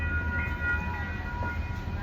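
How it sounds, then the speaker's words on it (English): Inside a Metrolink commuter train at San Bernardino, a steady low rumble carries faint tonal whines, with no voices. "Here we are on the train."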